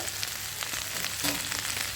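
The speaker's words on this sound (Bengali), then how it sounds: "আদা কাঁচা লঙ্কাটা আমার ভালোভাবে ভাজা হয়ে গেছে, খুব বেশি ভাজিনি, হালকা করে ভেজেছি" Ginger and green chilies frying in hot oil, a steady close sizzle with crackling pops throughout, alone without any talking.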